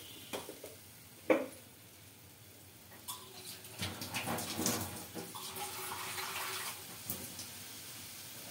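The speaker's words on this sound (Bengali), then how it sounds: "আর একটু জল দিলাম," Water is poured into a pan of bata fish curry, giving a splashing gush over a low simmering sizzle. A few knocks come first, then the pour runs on for several seconds, close by, with no talk.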